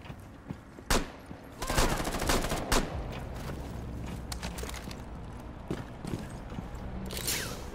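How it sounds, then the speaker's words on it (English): Scattered game gunfire from Rainbow Six, single cracks and short bursts over a steady background rumble, fairly close, with no talking over it. "But stop shooting."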